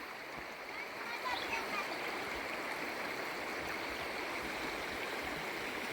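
Cold stream water running down from a hillside, a steady broadband rush with a faint splashy texture, continuous and moderately close, no voices.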